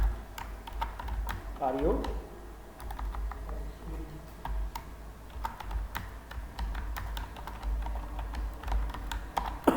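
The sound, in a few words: typing on a computer keyboard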